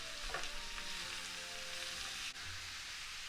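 Vegetables with grated beet and a splash of vinegar sizzle steadily in a frying pan for borscht as they are stirred, a close, continuous crackle with faint scraping and no talk.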